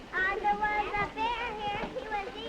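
A classroom of children busy at work, with a busy, noisy murmur of overlapping young voices and chatter filling the room steadily.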